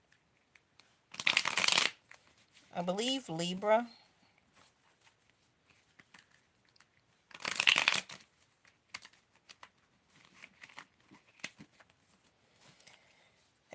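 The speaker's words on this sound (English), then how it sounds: "Let me shuffle a little bit." Two quick bursts of tarot cards being shuffled, several seconds apart, with a brief spoken phrase between them and soft handling noises afterward.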